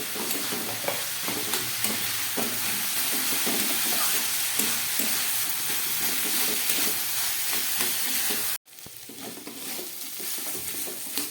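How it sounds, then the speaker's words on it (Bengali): Beetroot, carrot, peas, cauliflower and potato frying in a pan for vegetable chop, a steady loud sizzle with stirring scrapes running throughout, broken by a brief drop before the sizzle resumes. "বিট, গাজর, মটরশুঁটি, ফুলকপি, আলু সব কিছু খুব ভালো করে আমার ভাজা হয়ে গেছে"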